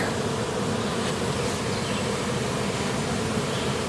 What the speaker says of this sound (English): There's a lot of bees on the entrance and they're marking it for scent.